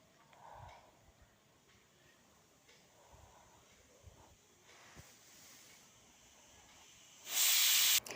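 Sweet maida dough pieces go into hot oil. Faint hissing gives way to a sudden, loud, sustained sizzle near the end, with no talking.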